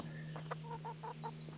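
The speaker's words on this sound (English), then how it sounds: "Chickens." Chickens cluck in the video game Kingdom Come: Deliverance, a run of short soft clucks over a steady low hum, fairly quiet and in the background.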